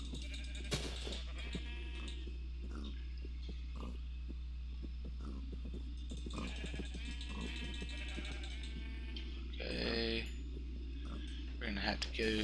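Sheep in a video game bleating several times at moderate distance, heard through constant talking and over a low electrical hum.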